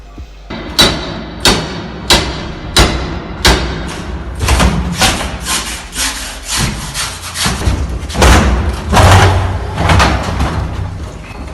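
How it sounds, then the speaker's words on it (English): Men in black balaclavas force an apartment door during a raid in Russia: a series of about ten loud, evenly spaced heavy thuds and wooden bangs, close up, followed by scraping and rattling of the door. "men in black balaclavas breaking through an apartment door"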